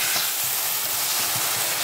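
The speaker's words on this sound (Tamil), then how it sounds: "இது கொஞ்சம் நேரம் கொதிக்கட்டும்" Tamarind puliyodharai mix simmers and sizzles in a pan, a constant loud hiss with faint bubbling pops underneath, close up and without speech.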